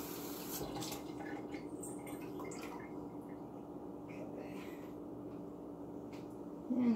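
Tap water runs steadily into a sink while containers are rinsed out after Kool-Aid dyeing, a continuous close hiss and splash that swells slightly louder at the very end.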